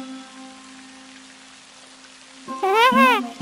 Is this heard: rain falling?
yes